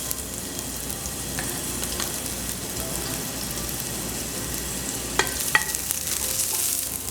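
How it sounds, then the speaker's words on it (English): Onions frying in coconut oil give off a steady, dense sizzle close by, with a few brief clinks of a utensil toward the end. "So I'm adding some coconut oil, and then I'm going to be adding some onions."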